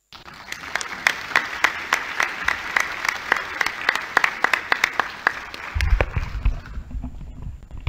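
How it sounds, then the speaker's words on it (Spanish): An audience at a legal congress applauds steadily, many hands clapping in a dense, even wash close by; low rumbling noise joins in near the end as the clapping thins. "con este aplauso despedimos al profesor Binder"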